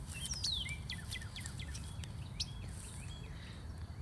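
Several short, high bird chirps and tweets repeat among wildflowers over a soft, steady outdoor hiss. The calls are fairly close and clear, with one brighter call near the middle, and no one speaks.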